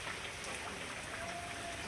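Steady rain falling, a dense even hiss of drops spread across the whole short stretch with no voices.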